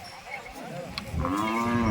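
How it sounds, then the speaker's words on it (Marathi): Red Kandhari bulls at the Nalegaon cattle market in Latur, Maharashtra, with one animal giving a rising, drawn-out moo toward the end over steady market crowd murmur. "जोड आहे लाल कंदारी जोड, आपल्या नळेगावच्या बैल बाजारामध्ये आल्यात"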